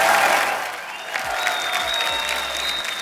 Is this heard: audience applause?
yes